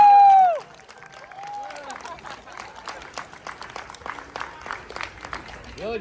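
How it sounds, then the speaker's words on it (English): An audience at a fan-convention mock courtroom breaks into scattered applause and clapping after a loud opening voice, the claps light and uneven at moderate distance over a murmur of crowd noise. "Let us give a round of applause for our boys of Luna."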